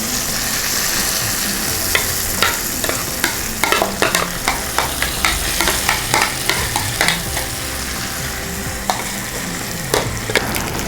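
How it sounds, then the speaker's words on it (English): Mashed yam (jimikand) mixture cooking over a slow flame in a pan, with a steady sizzle broken by frequent sharp scrapes and stirring knocks of a spoon against the pan. "we have to gently cook it on a slow flame until the mixture of JimiKand is thick in texture"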